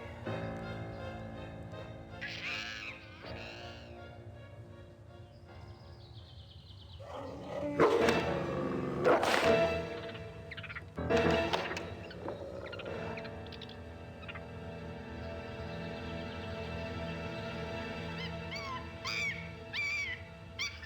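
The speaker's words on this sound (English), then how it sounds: "She seems so tame, just like a dog. Wolf is not dog, Mr. Knight" Wolf whimpering in the 1995 video game Gabriel Knight 2: The Beast Within, a series of soft whines and cries over a steady game music bed, with two louder bursts in the middle.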